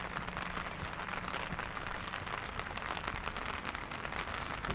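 Steady rain falling on a day out at an onsen in Jozankei, a dense, even patter and hiss throughout, close and continuous with no voices.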